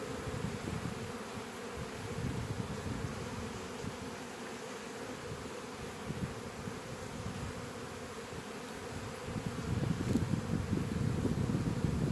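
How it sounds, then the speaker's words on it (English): A continuous low buzzing of many bees close by around a hive, droning steadily with slight swells, growing a little louder near the end, no talking. "As you can see, they're lovely, lovely bees."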